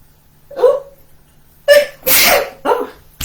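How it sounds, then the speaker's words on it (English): A single sharp human sneeze bursts out close and loud, preceded by a couple of short breathy gasps as it builds, with a brief voiced catch after it, in a quiet indoor room. "I'm going to sneeze."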